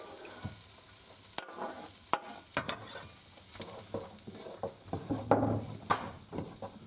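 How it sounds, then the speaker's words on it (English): Eggs stir-fried with spring onion and garlic for special fried rice sizzle steadily in a hot pan, with repeated sharp spatula scrapes and knocks against the metal throughout. "Now that your eggs are mixed in, add the spring onion and garlic."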